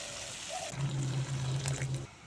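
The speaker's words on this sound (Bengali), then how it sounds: "এখন দিয়ে দেবো পরিমাণ মতো জল" Water pours from a vessel into a pan of oily fried spices, a steady trickling splash with a low hollow tone that runs for about a second and then stops. It is close, quiet and heard alone.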